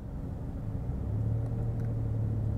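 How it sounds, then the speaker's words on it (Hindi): A car engine in first gear revs up to about 1500 rpm before pulling away, a steady low rumble that swells slightly and holds, heard up close with no talking. "उसी तरह आरपीएम को 1500 तक लेके जाएं"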